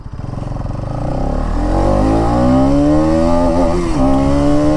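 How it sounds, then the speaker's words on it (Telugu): A 2021 Bajaj Pulsar NS200 motorcycle pulls hard in first gear, its engine note climbing steadily to a loud, high-revving whine, close and alone without speech. "ఇప్పుడు చూడండి, మనం నేను ఫస్ట్ గేర్ నుంచి ఒకసారి డ్రాగ్ చేస్తాను."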